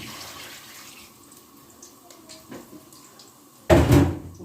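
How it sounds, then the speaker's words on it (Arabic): Hot water is poured onto meat in a pot: after a quiet stretch with faint kitchen clatter, a sudden loud splashing gush erupts near the end and lasts under a second. "يلا بقى نحط عليها الميه السخنه بتاعتنا"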